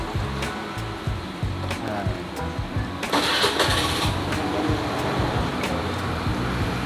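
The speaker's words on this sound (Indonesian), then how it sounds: "Untuk kondisi kita langsung aja nyalain mesinnya." A Honda Beat FI scooter engine cranks and catches about three seconds in, then idles steadily and close by, with no talking over it.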